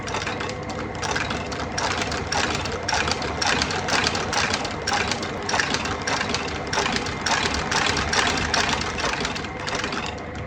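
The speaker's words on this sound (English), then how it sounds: "Remember, this is a 360 stitch, so we've got to go all the way around." Sole stitching machine sewing a 360 stitch around a shoe sole during a Barkers shoe recraft, a steady rapid mechanical chatter of the needle running continuously at close range, with no talk.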